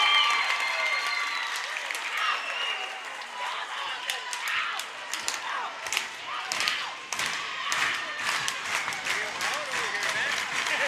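A crowd claps and cheers loudly at a high school regional semifinal basketball game during a timeout, with dense, sustained applause and scattered thuds throughout.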